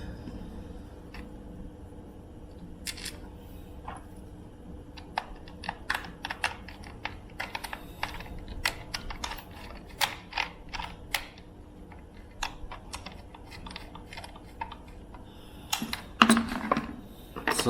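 Screws are driven back into a Rival Knockout blaster held in one hand, giving quiet, irregular sharp clicks and small ratcheting taps close by, with brief pauses between bursts.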